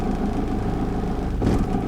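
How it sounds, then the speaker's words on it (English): A van engine idles roughly and sags as if about to stall, a low uneven rumble close by with a brief lurch near the end. "at the moment it just drops, almost stalls, and then violently shakes the van like that"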